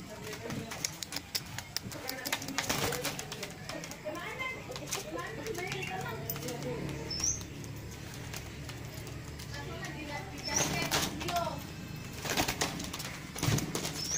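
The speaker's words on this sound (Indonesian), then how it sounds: "Ini burung apa namanya ini?" A rare, unusual wild bird recently caught calls in a few short chirps amid busy outdoor ambience, with people talking throughout and occasional clatter nearby.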